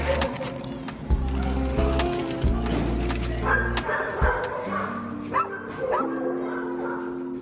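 Dogs at a shelter bark, yip and whimper in a busy overlapping chorus of close, loud calls, with high whines threading between the barks and an occasional bird chirp.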